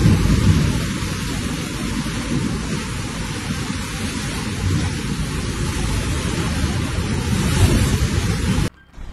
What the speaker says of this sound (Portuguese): Tempestade assustadora atinge Omã nesta sexta-feira.